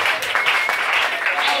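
A church congregation claps and cheers in a sustained burst of applause, a dense, bright wash of hand claps filling the space, with voices mixed in.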